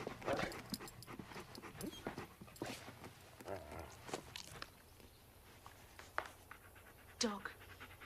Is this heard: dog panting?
yes